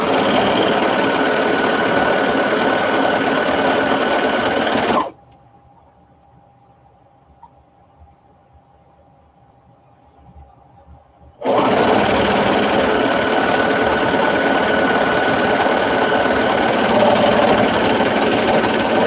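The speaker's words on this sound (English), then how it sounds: "Again, I did the chain piecing, and I will just go back and cut and cut." A sewing machine chain-pieces fabric in two long steady bursts of loud, even whirring, separated by a pause of about six seconds in which only a faint hum remains.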